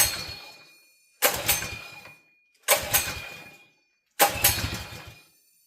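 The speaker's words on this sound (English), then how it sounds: "Engine that's been sitting for 2 years after Oxy Earth mini bike build." An old go-kart engine, a small GX160, that sat for two years sputters to life in four short bursts, each starting abruptly and dying away over about a second, with silent gaps between.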